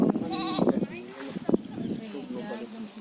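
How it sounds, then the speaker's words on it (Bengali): Several goats bleat in quavering bursts, close by, with people talking over and between the calls. "অনেক ছাগল।"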